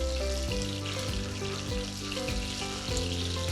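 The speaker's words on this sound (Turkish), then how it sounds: "Fasulyelerimiz iki tarafı da iyice kızardı." Beans fry in a pan with a continuous loud sizzle, while a steady low tonal hum with faint periodic shifts runs underneath.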